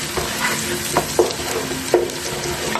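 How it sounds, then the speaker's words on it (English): Tomato paste sautéing in hot oil with orzo and prawns for a prawn kritharoto, a steady soft sizzle broken by a few light stirring scrapes close by, with no talking. "Saute that a bit in the oil."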